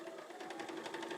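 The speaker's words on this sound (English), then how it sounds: "we're going to line that up and stitch right on to the next one" A sewing machine stitches quilt units one after another in chain-piecing fashion, giving a quiet, steady rapid needle chatter with no voices.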